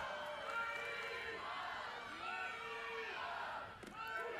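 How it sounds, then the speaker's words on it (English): A huge crowd at a Tennessee Volunteers versus Mississippi State Bulldogs college softball game cheers and shouts in a sustained roar that swells and dips, heard from a distance. "Schaefer's blast has definitely woke up this huge crowd. They're certainly letting the umpire know"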